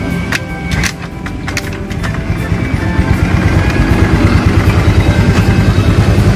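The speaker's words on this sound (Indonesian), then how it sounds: "kita coba tes hidupin aja dulu kita pakai starter kaki dulu biar dia bisa menyimpan strum" A Honda Vario 110 scooter being kick-started at home, with a few sharp mechanical clunks from the kick lever before the engine catches and settles into a loud, steady, rapid idle close by.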